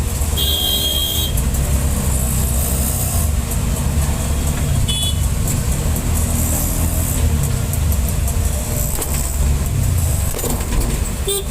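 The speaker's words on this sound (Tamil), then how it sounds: "பயங்கர டிராஃபிக்காக இருக்குது" Heavy city road traffic on a busy street late in the morning, a steady loud rumble of cars, trucks and buses with occasional short horn toots rising above the constant engine noise.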